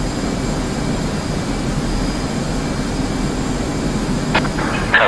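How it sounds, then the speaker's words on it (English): F-16C jet in the flight simulator DCS, its engine a steady loud roar for several seconds, with a couple of brief clicks near the end. "Gonna give you a flyby."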